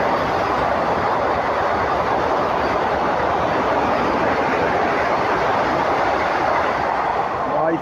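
The Mumbai Central–Ahmedabad Vande Bharat Express passes at about 130 on the flat, a loud continuous rushing roar of wheels and rail with steady rumble throughout.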